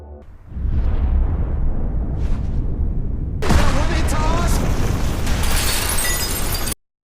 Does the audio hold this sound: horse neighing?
no